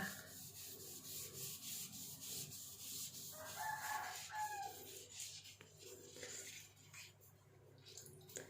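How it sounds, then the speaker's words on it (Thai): A sponge scrubs yellowed bathroom floor tiles in steady, repeated rubbing strokes, close and fairly quiet, with a rooster crowing faintly in the background. "ถูแล้ว ขัดไปเรื่อยๆนะคะ"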